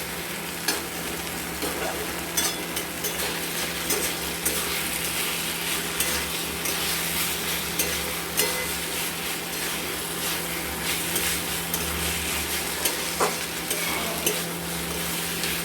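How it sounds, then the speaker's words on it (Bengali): Spinach with bori is stirred in a frying pan over a steady loud sizzle, with a spatula scraping and tapping at uneven intervals throughout and no voices. "2-3 মিনিট নাড়াচাড়া করে নেব"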